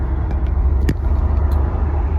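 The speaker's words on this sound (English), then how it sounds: "I've never driven a Triumph Stag before." A Triumph Stag classic car cruises on the M25 motorway, a loud steady low engine and road rumble from inside the cabin with no talking.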